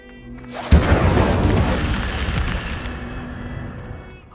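Incendio fire spell cast in Hogwarts Legacy: one sudden whooshing burst that erupts loudly and close, then a roaring, crackling wash that slowly fades over several seconds, with no voices.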